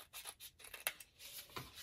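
Scissors cutting through a packet of cling stamps, a few quick, faint snips close by in a quiet room.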